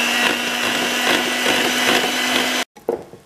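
An electric mixer with chilled beaters whips chocolate ganache, a steady close high-pitched whir with faint rhythmic scraping that cuts off abruptly, followed by a few soft knocks.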